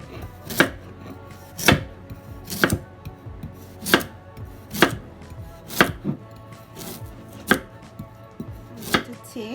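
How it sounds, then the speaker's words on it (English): Knife julienning carrots on a cutting board while making Jamaican escovitch fish: about ten crisp, evenly spaced chops, each a sharp close thud, with no talk between them. "I'm going to julienne the carrot like so"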